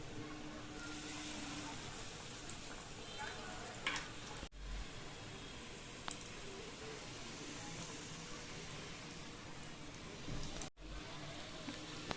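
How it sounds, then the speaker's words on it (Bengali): Vegetable chops fry in a pan of oil with a steady, hissing sizzle that runs unbroken from start to finish, quiet but dense, broken only by a couple of brief cuts. "সব একইভাবে সব ভেজে নিচ্ছি ভেজিটেবিলগুলো।"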